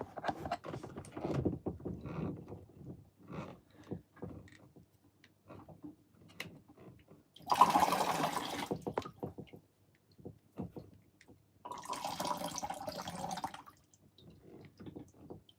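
Water drips and trickles from an aquarium siphon draining a fish tank, in scattered soft splashes, with two louder gurgling surges of rushing water partway through.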